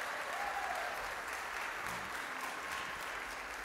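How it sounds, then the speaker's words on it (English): Audience applause at the 2022 Predator World 8-Ball pool championship, a steady, fairly distant wash of clapping that holds at an even level throughout, with no voices standing out. "Well, the loud round of applause means that Alain Roland has taken a rack back against Victor Zelensky, the local man from Puerto Rico."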